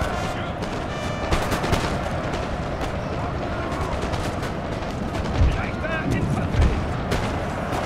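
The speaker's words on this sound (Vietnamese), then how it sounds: "ta vẫn bắn được súng rồi." Musket volleys and cannon booms crackle through a Napoleon Total War battle, a dense continuous din of scattered shots with a few heavier thumps, while someone talks over it.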